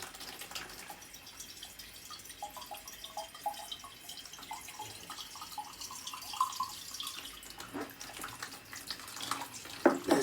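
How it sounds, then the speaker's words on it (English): Water runs from a tap in a slow, steady stream while a heating system is being drained, a faint continuous trickle with small drips and splashes throughout, no voices. "what you want is a nice, slow, steady"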